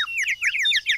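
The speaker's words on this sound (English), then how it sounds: "He's such a nice little bird, Teddies. But I wonder why he stopped singing" A toy little bird sings a continuous stream of high, bright chirps and whistled trills, close and fairly loud, with no talking.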